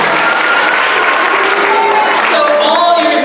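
An audience claps steadily for a few seconds at a church mad science show, dense and even, with a voice or two rising near the end.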